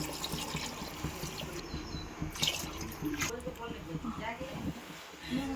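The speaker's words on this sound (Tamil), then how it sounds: "இது வந்து நல்லா கொதிக்குதுங்க." Water for chicken biryani boils in a pot, a busy bubbling gurgle that runs steadily at moderate loudness from start to finish.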